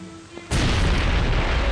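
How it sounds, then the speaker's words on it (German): A deep, roaring blast erupts suddenly after a quiet moment as a bridge is blown up with demolition charges in World War II, and keeps rumbling loudly without fading, like a distant large explosion. "Zur festgesetzten Minute fliegt die Brücke in die Luft."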